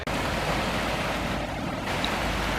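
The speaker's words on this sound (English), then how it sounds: "There's so many waterfalls here." Waterfalls along a hiking trail at Glendalough rush in a dense, continuous roar that fills the whole scene, steady and close with no voices.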